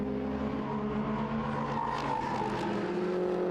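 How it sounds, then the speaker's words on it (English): Touring race cars, among them a BMW and a Toyota, driving through a chicane at Rudskogen, engines droning loudly and continuously with rising and falling revs, no voices present. "Weibu and Niersnes both well into the chicane, while Niels stays on track"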